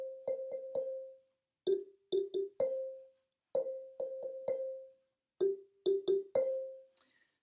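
A repeated ostinato on a pentatonic xylophone, clusters of quick mallet strikes alternating between two pitches with pauses between groups, bright wooden tones that are fairly soft and close, with no voices.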